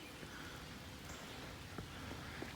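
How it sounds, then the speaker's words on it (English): Light rain begins falling at a hilltop Civil War battlefield monument, a soft, even hiss of drops spread across the clip with a few faint, scattered taps and rustles, quiet and close by. "It has started to rain."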